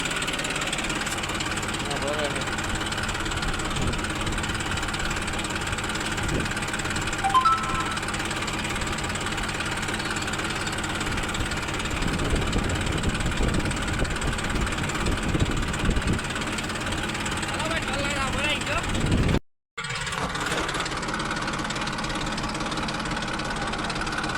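A tractor's diesel engine running steadily nearby, a constant low chugging drone with vibration that continues throughout, with a brief cut near the end before resuming.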